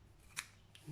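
Scissors snip off a yarn end while crocheting a rabbit appliqué, a single sharp cut near the mic followed by a faint soft click.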